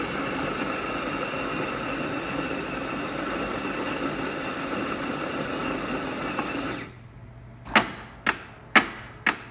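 A Saeco Magic Comfort+ espresso machine pulls a shot with a loud, steady pump drone for about seven seconds, then stops, followed by several sharp clicks or clunks in quiet.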